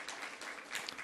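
Brief, faint patter of clapping from the men in a church Bible-study congregation, soft and distant with no voices over it.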